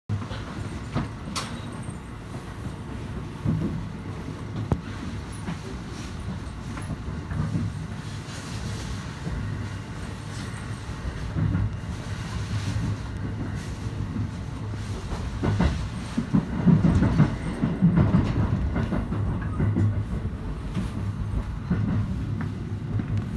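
Train on a line around Lake Biwa approaching its terminal station, a steady low rumble of wheels on rails with faint clicks, swelling slightly louder near the end.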